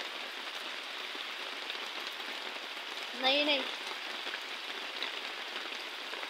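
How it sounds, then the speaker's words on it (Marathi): Rain falls steadily as a soft, even hiss across the whole stretch, with a short spoken exclamation briefly breaking through in the middle. "भरपूर पाऊस आहे."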